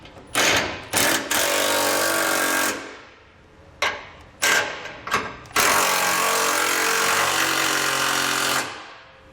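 A power tool snugs down trailer hitch bolts on a 2019 Ford F-150: loud buzzing rattling bursts, several short ones, then a long sustained run, with brief pauses between.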